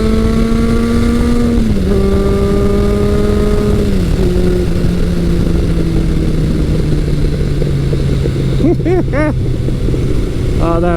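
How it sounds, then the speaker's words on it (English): A 1981 Kawasaki KZ1000 CSR motorcycle with a 4-into-1 pipe roars loud and close while riding, the engine note stepping down through gear changes and settling into a steady drone, with wind rush throughout. "This is a 1981 Kawasaki CSR 1000, and man, that sound is addictive."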